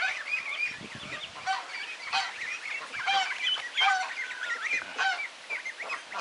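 A flock of geese honks repeatedly at close range in a lively, overlapping clamor of nasal calls, with no talking.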